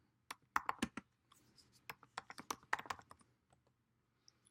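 Quiet, close typing on a computer keyboard, with irregular bursts of key clicks that come in quick clusters and then thin out into a few scattered taps, and no voices.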